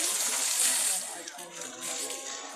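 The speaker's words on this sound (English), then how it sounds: "He keeps spilling water out of your cage" Water sloshes and spills as a sea lion splashes out of its pool at Central Park Zoo in New York, a continuous bright wash of splashing that eases off partway through, with no clear talk.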